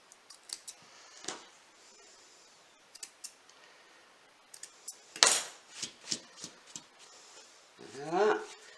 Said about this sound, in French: Je coupe tous les petits fils qui dépassent.